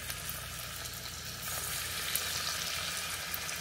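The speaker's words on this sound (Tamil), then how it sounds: "எண்ணெய் காஞ்சிச்சு, இப்போ வந்து பக்கோடாவை போட்டு எடுத்துக்கலாம்" Potato pakoda frying in hot oil for an evening snack, a steady close sizzle and crackle that holds throughout and grows slightly louder partway through.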